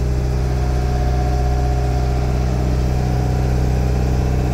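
Narrowboat diesel engine running steadily at about 2000 RPM on the Bridgewater Canal, a constant loud low drone with a harmonic hum, close and unbroken, no voices.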